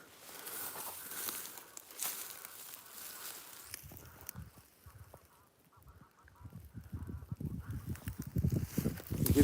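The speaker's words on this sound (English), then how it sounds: "Sounds like geese." Geese honk in a wooded area full of felled trees, a loose series of nasal calls growing louder toward the end, with a person speaking over parts of it.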